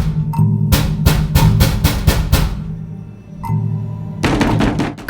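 Knuckles rap hard on a barn door in a Korean mystery TV drama: a quick series of loud, hollow knocks, a pause, a single knock, then another rapid burst, with a low eerie music drone underneath.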